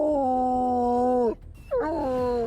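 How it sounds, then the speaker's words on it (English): A hound dog lets out a long, loud, close howl with a steady wavering tone, breaks off briefly, then resumes with a rising second howl. "a hound dog that laid at Granny's feet arose and sent up a long howl"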